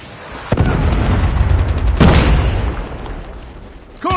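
Missile strike explosion in Call of Duty Mobile, a loud booming blast near the start followed by a second heavy burst and a rumbling tail over steady game background noise.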